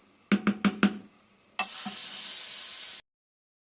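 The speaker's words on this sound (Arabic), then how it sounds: "هاجي جايه بقى ايه على العدس ونازله بيها، واقلب بقى قلب قلب قلب" Fried vermicelli tipped onto lentil soup and stirred, a few quick close knocks of a utensil followed by a loud steady hiss that cuts off abruptly.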